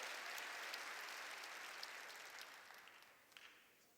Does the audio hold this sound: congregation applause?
yes